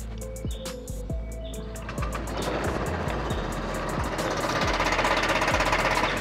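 A Honda Vario 125 scooter with its catalytic converter removed idles nearby with a rapid, knocking chatter, and a few dull thumps come at the start.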